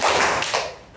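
A class of students giving two quick claps together in a classroom, two sharp bursts close together that fade right after.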